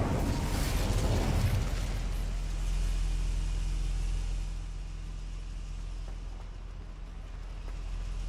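Incendio, a fire spell in Hogwarts Legacy, bursts with a loud whooshing blast in the first few seconds, then settles into a sustained low roaring rumble that slowly fades.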